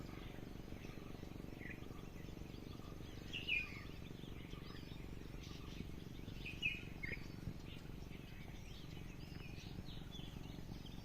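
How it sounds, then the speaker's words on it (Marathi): Faint bird chirps and calls scattered over a steady low outdoor hum in a village on a winter morning, a few brief tweets standing out now and then. "तुम्हाला आजूबाजूला पक्ष्यांचे आवाज येत असतीलच"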